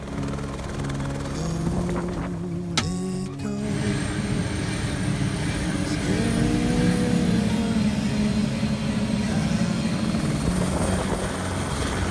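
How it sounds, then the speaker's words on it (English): A helicopter roars steadily up close, the rotor thumping and engine whining continuously as it lifts off and flies on up toward a glacier in New Zealand. "taking off on an epic helicopter flight up to the glacier"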